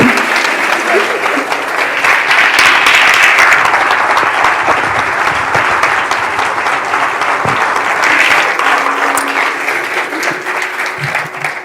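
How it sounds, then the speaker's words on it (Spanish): Loud, dense applause from an audience at an interview event, sustained with little change for about twelve seconds. "un fuerte aplauso para él"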